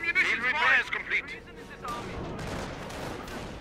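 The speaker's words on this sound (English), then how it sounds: "it's AT gun over here that's firing" Anti-tank gun firing in a World War II strategy game, heavy shots booming after an opening burst of game voices and radio chatter, with dense battlefield noise and scattered impacts continuing underneath.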